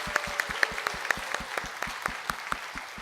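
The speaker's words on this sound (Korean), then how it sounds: "우리 고생하신 선생님들을 향해서 박수로 위로하겠습니다." Sparse, evenly spaced clapping from a small church congregation, rhythmic and moderately soft, with a faint background hum.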